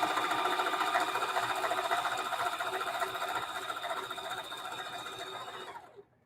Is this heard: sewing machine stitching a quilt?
yes